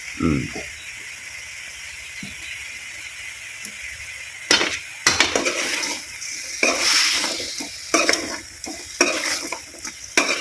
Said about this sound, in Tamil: இப்போ இந்த கறி கூட நம்ம மஞ்சள் தூள் சேர்த்து வதக்குவோம்